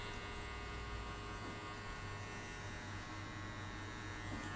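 Electric hair clipper buzzing steadily with its blade lever closed while tapering the back of a buzzcut, a continuous close, low hum with no talk.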